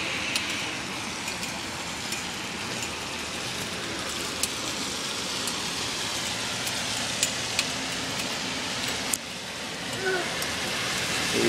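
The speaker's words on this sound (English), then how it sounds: "As you can see, it's raining out." Steady rain falls outside on a city street in China, a continuous broadband hiss with faint traffic beneath and a few brief clicks, with no voices.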